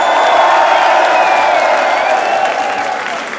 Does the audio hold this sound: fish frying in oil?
no